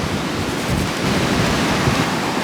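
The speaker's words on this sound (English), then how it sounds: "it's getting silly windy now" Strong wind roars and buffets the microphone in a constant rushing blast, with gusty swells and no voices.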